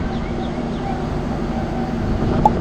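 A WAP-5 electric locomotive heads the Dhauli Superfast Express on the Puri to Howrah run, giving a steady, low rumble with a faint whine and a single sharp click near the end.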